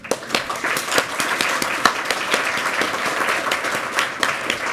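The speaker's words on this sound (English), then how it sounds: "a big round of applause to all the panelists" An audience at a Nordic battery collaboration day applauds the panelists, a moderate round of clapping with distinct sharp hand claps standing out over a steady patter throughout.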